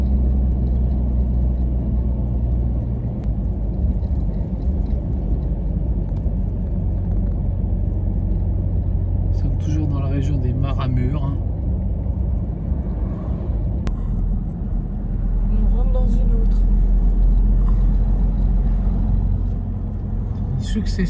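Car rolling along a road at about 50 km/h through a string of long villages in Romania, a steady low rumble throughout with people talking at times.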